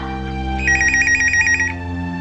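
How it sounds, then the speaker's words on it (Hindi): A telephone ringing with a rapid trilling electronic bell burst lasting about a second, loud and close over a steady background hum, with no talk. "किसका फोन है जो बजे जा रहा है?"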